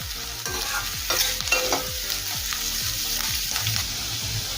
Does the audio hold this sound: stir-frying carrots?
yes